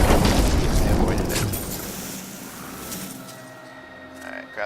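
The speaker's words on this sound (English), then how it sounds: "There's the explosion" A spell explosion in the Diablo 3 video game, played as a Wizard, bursts as a loud, broad boom right at the start and then rumbles and fades away over the next few seconds.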